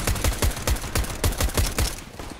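Rapid bursts of automatic gunfire in the CS:GO video game, a steady run of loud, closely spaced shots across the clip that fades slightly at the end.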